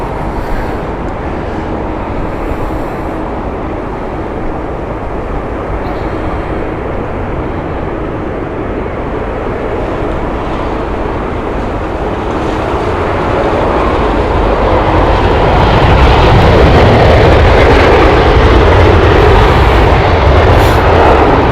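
An ITA Airways airliner on the Vienna flight at Heathrow Airport, a loud broadband engine roar that swells and grows heavier toward the end as the jet passes close by.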